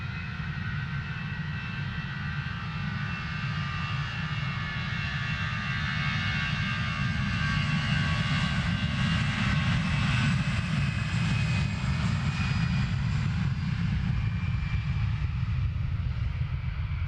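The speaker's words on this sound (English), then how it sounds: "Sky's quite busy here over Luton Airport this evening, both with arrivals and overflies." An aircraft passes low over Luton Airport, its engine a loud sustained roar with a whining tone that rises and falls slightly as it flies overhead, alone without talk.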